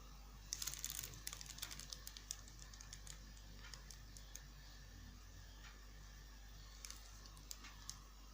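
Keys tapped on a computer keyboard while song titles are entered, giving faint, irregular clicks in short bursts over a quiet background hum.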